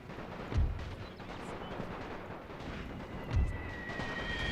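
Heavy machine gun and artillery fire from a World War I strategy game, Austro-Hungarian side: a steady rumbling barrage with two deep booming thumps standing out, continuous and moderately loud, with no voices.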